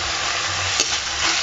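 Continuous loud, dense sizzle of food browning in a frying pan, steady throughout with one brief scrape near the middle and no voices.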